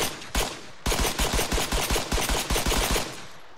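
A P07 9mm pistol firing in ArmA III: a rapid, evenly spaced string of around fifteen sharp, close shots with a brief pause near the start, each crack loud and punchy.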